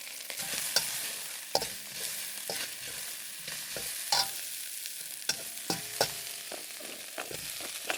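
Onion and ginger stir-fry in a wok: a soft sizzle is broken by irregular scrapes and clacks of the spatula against the pan, with no talking.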